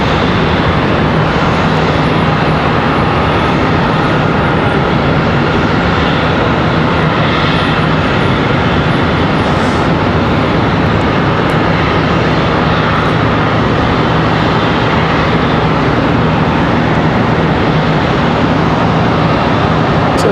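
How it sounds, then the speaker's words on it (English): A Boeing 737-800 airliner roaring on its takeoff run for Nashville, a loud, steady, broad engine rumble that fills the whole stretch without a break, heard nearby at an airport with no talk. "So 737-800 off to Nashville, Tennessee."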